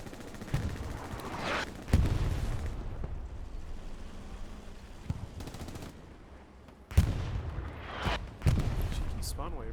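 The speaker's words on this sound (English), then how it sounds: "Really good bombing run from Phoenix." Bombing-run explosions in a multiplayer shooter game come as several heavy booming bursts with rumbling tails, separated by quieter stretches, while a commentator talks over them.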